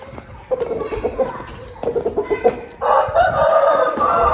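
A rooster clucks in short bursts up close, then crows in a long, loud call to finish.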